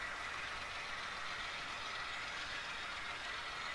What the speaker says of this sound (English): Here we have another DPU going. This is a mid-train DPU, a Norfolk Southern Gevo ES44.